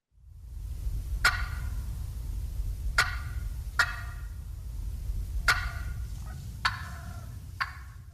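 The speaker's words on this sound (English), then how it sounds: "you'll hear a cluck, and then you'll hear this like bubbly purr after the cluck" Wild turkey clucks: about seven sharp, separate calls at uneven intervals over a steady low outdoor rumble, with a soft, bubbly purr following one of the later clucks.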